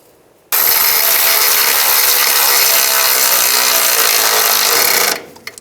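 Ratcheting power tool driving the front lower control arm bolts and nuts tight on a 2005-15 Nissan Xterra, a loud continuous whirring buzz held steady for about four and a half seconds before cutting off.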